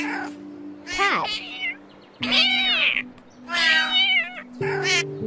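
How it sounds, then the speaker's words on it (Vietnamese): A cat meows close and clear, letting out about four drawn-out, wavering cries with short pauses between them. "Cat."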